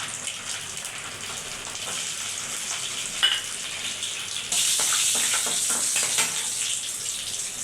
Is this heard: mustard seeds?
yes